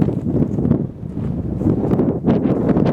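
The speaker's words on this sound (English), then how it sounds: "Feel the wind start picking up. Of course, it's blowing a little bit harder up here than it is down there." Hard wind on a hilltop buffeting the microphone, a loud, continuous rumbling roar with gusty surges throughout.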